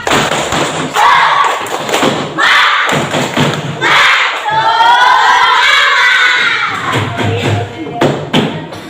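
Schoolchildren in a classroom perform a loud rhythmic clapping chant, three spirit claps, with sharp hand claps, thumps and shouted, chanting young voices close by.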